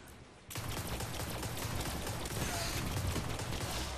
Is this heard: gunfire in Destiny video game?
yes